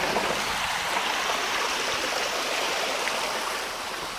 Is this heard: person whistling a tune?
no